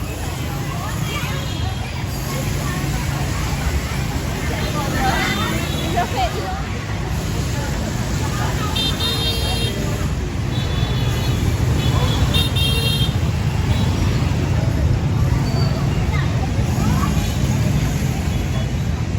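Busy Hanoi street traffic, with a constant roar of engines and scooters, repeated car and motorbike horn toots scattered through, and crowd babble and talk mixed in.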